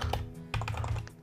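Rapid typing on a computer keyboard while entering a website name during a WordPress install, close and steady with clustered key clicks over about a second.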